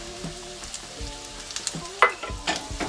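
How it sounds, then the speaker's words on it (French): Parsley sautéing in a frying pan with oil after salt and pepper, soft crackling sizzle punctuated by scattered clicks and scrapes of stirring, close and quiet, no voices. "et vous faites sauter"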